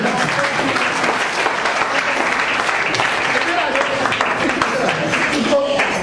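A church audience at a sermon claps together in a sustained, dense round of applause, steady and fairly loud throughout, with some voices mixed in.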